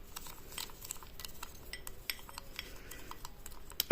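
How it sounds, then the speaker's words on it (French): A spoon mixes sugar with syrup in a bowl, making faint, irregular clinks and scrapes against the dish in quick succession, quiet and close with no talk. "Du coup après je mélange le sucre avec le sirop."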